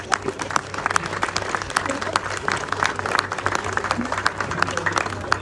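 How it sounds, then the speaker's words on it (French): An audience at an inauguration for a home fair claps for an organizer named Daniel; scattered, moderately quiet clapping mixes with a murmuring crowd and some voices. "je crois qu'on peut l'applaudir"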